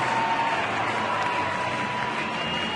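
A large baseball crowd at U.S. Cellular Field in Chicago, Detroit visiting the White Sox, sends up a steady, distant roar of cheering and murmur that holds evenly throughout.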